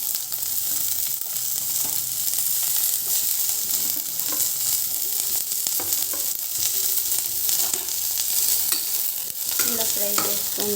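Onions fry in a pan, giving off a dense, continuous sizzle with stirring scrapes close by. It stays loud and steady throughout with no talk.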